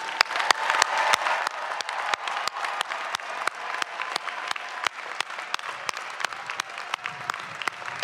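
Stadium crowd applauding at a university commencement on an open football field, a steady wash of clapping with sharp individual claps standing out, continuous and fairly loud, with no talking.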